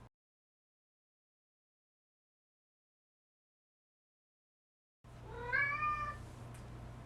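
A single cat meows once, loud and close, in a small indoor recording room after several seconds of silence, with a steady low hum in the background.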